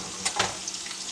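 Burgers sizzle and crackle in a frying pan, a close, steady frying hiss with a couple of brief louder bursts.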